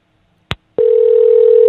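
A telephone line gives a click, then a loud, steady dial tone that holds without a break and carries on alone.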